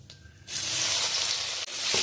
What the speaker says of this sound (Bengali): রসুনটা খুব লাল লাল করে ভেজে নেব